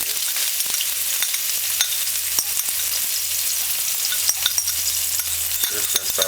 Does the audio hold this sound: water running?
no